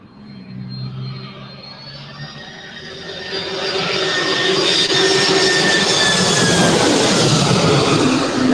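A Delta Airlines Boeing 767-400ER arriving at LAX from JFK, its jet engine roar swelling steadily from a moderate rumble into a loud, sustained broadband wash with whining tones, heard alone without talk.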